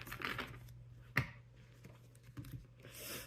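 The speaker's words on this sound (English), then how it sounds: "We'll shuffle them" Mermaid oracle cards being shuffled by hand, a short burst of papery riffling with one sharp snap of cards near the middle and a brief rustle toward the end.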